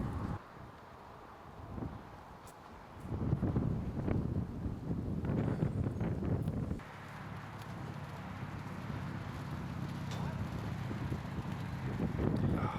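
Headwind gusts across an outdoor disc golf course at a tournament round, a loud continuous rumble buffeting the microphone and rising and falling throughout.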